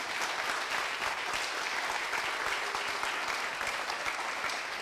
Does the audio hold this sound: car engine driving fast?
no